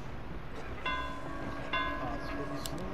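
A bell tolls in the horror game Dead by Daylight, the sound linked to its bell-wielding killer: two clear metallic strikes about a second apart, each ringing on over a steady background hum.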